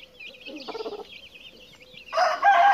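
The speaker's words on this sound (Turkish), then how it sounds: "7 tane tavuğumuz var" A small flock of black chickens clucks in short bursts close by, one calling louder near the end, with a faint background hiss.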